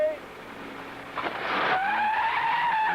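Cars in a 1962 Chrysler 300 launch for a 0-60 drag race, with tire squeal and a rising engine roar that swells midway and holds steady and loud to the end.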